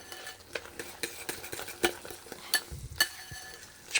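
Cream of rice being stirred with a spoon in a bowl, a soft repeated scraping and clinking of utensil against the dish, close and quiet with no talk.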